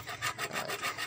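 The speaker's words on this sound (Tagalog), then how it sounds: "Naglagari ako" A hand saw cuts through wood in quick back-and-forth strokes, about six rasping pulls in a second, close and fairly quiet with no voices.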